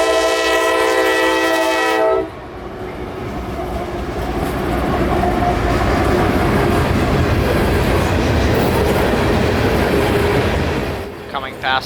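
A loaded CSX coal train of 75 cars rolls past heading south, preceded by a loud multi-tone horn blast, then a long steady rumble and rail clatter of wagons close by that persists nearly to the end.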